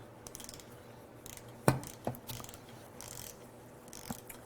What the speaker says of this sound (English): Tighten all of them down to 120 inch-pounds.